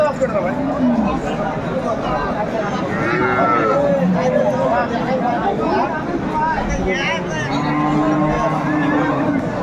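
At a rural cattle market, a dairy cow and her calf moo in drawn-out calls, heard over a busy crowd of people talking nearby.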